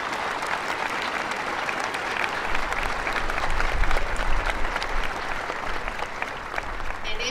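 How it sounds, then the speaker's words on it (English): Steady audience applause at a Wreaths Across America ceremony at Houston National Cemetery, outdoors, sustained at an even level throughout with a brief swell midway, with no talk over it. "please give a big round of applause for those people"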